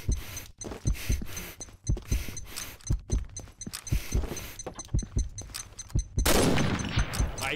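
Rapid gunfire from the online shooter game Warhead, with repeated sharp shots in quick bursts and clusters, close and loud, ending in a denser blast of noise.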